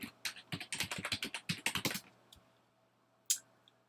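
Password being typed on a computer keyboard to log in to a remote computing cluster: about two seconds of quick, close keystroke clicks in a rapid run, then quiet with one last sharp key press near the end.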